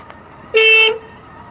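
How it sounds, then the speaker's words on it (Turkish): A single steady car horn honk from a Lada Vega, lasting under half a second, loud and close, over faint background hum. "kornaya niye basma ihtiyacı duyuyorsun anlamıyorum"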